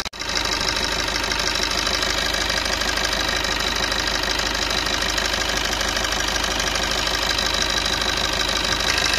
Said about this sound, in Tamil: இந்த இன்ஜின் வந்து பார்த்திங்கன்னா இப்போ ஒரு ஹாஃப் அன் அவர் இது ரன் ஆகிருக்கு